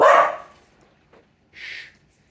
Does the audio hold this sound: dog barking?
yes